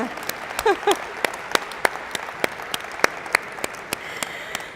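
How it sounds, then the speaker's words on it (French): An audience applauds to welcome newcomers at a NAO robot introduction event, a moderate patter of clapping that rises briefly with a few louder bursts and voices calling out early on. "les habitués, on applaudit les nouveaux"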